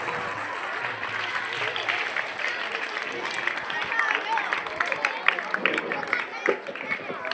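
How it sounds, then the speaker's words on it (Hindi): Students at a government senior secondary school in Karsola applaud to welcome a guest, a continuous crowd of clapping hands with scattered sharper claps and voices mixed in. "जोरदार तालियां बजाइए सर के लिए।"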